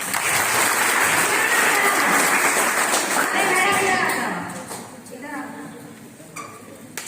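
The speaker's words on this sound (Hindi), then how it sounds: "सभी के लिए जोरदार तालियां" A school audience claps loudly for teachers, a dense burst of applause that fades after about four seconds, leaving murmuring voices and a few scattered claps.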